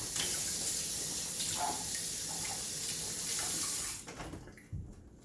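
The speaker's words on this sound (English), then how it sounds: "I'm going to rinse this off." Tap water runs steadily as leftover chicken is rinsed under it at a kitchen sink, a continuous loud hiss that cuts off near the end, leaving a few faint drips and handling sounds.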